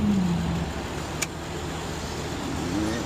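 A cheap wrecked car driven on the road with its loose bumper tied up, giving a steady, moderate rumble of road and engine noise from inside the cabin, with a single brief click midway.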